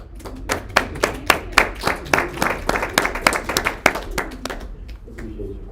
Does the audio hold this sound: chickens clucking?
no